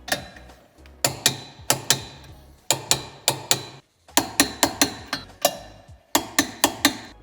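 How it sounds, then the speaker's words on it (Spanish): Size 12 tow hitch bolts on a BMW X2 (F39) being tightened to torque: rapid bursts of sharp metallic ratchet clicks in quick clusters, close and loud, with brief pauses between runs. "Al ser tornillos de 12, lo apretaremos a 87 Nm."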